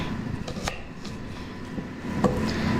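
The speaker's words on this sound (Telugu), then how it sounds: "ఇప్పుడు ఉల్లిపాయ కట్ చేసుకుందాం" A knife chops an onion on a board in a kitchen, a few separate cuts spaced out over a low background hum, with no talking.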